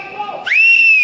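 A sharp whistle blown at a street protest in Lyon, a single sustained shrill tone rising in and holding steady, loud and close, following a stretch of fainter tonal whistling amid crowd noise.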